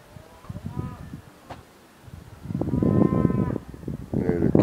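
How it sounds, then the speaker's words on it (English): Cattle moo twice at a moderate distance in a field, long low calls over wind and outdoor rustle, with a brief faint voice between them. "the cow's mooing over in the fields"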